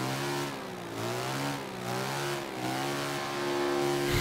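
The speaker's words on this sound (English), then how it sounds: "You know what this thing sounds like? It sounds like a lawnmower." A 4x4 vehicle engine in Forza Horizon 3 with a thin, buzzy lawnmower-like tone revs up and down in several rising and falling waves, fairly faint and alone without talking.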